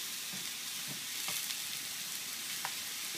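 A fish fillet sears in a frying pan, giving a soft, steady sizzle with faint crackles and a few small pops, heard quietly without talk.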